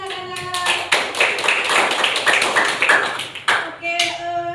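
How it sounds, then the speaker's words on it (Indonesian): Children in a classroom clap together in a quick burst of sharp, close hand claps that run for several seconds, with children's voices calling out over it and a voice at the start and end. "Beri tepuk tangannya anak-anak."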